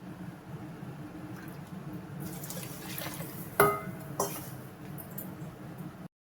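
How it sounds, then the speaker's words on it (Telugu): Water poured from a cup into a kadai holding grated jaggery, a soft liquid splash with a couple of clinks near the middle, set against steady kitchen background hiss. "అదే కప్పుతో ఫుల్గా వాటర్ వేసుకోవాలి"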